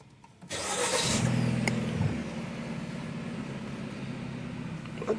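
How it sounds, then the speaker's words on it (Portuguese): A Jeep Compass with a cylinder three misfire fault cranks and fires up, then settles into a steady, fairly loud idle rumble that continues to the end. "Liga o motor aí, Pedro, por favor."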